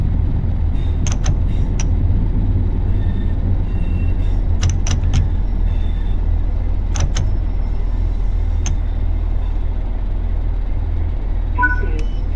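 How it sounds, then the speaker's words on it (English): A train idles at a station platform for a Southern service to Ashford International, giving a steady low rumble with scattered metallic clicks and brief squeaks, then a short tonal chime near the end. "This train is the Southern Service to Ashford International"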